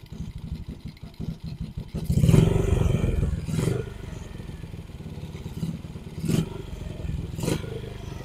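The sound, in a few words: motorcycle engine running with a full-wave charger (TTGR) fitted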